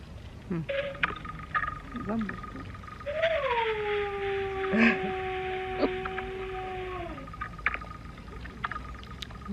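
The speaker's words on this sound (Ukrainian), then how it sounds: "Мама камеру включила, а Кеті там виє. Сирена." A dog howls in long, wavering rising and falling tones over a distant wailing air-raid siren in Ukraine, with people talking intermittently around it.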